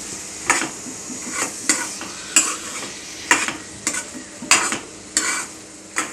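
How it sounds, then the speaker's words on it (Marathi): Soaked black-eyed peas are stirred into spices in a pan for a Marathi bhaji, with rhythmic spoon scrapes and clinks against the pan over a light sizzle. "चवळी घालते, सर्व मसाल्यांमध्ये आता मिक्स करून घ्यायची"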